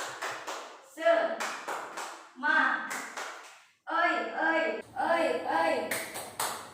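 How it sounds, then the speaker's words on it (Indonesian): A group of children claps the tepuk semangat chant in a classroom, rhythmic bursts of claps in short patterned phrases separated by pauses, with voices chanting along. "tepuk semangat"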